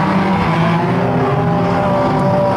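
Unlimited banger race cars at Mildenhall roaring around the track into a turn, a dense loud wall of revving engines, several cars blending together, steady and close.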